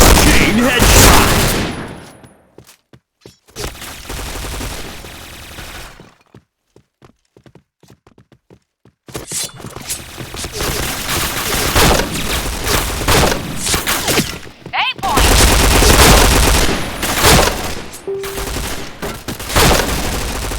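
Bursts of rapid P90 submachine-gun fire crackle loudly in a shooting video game, with a near-silent gap in the middle before dense firing resumes alongside other game sounds.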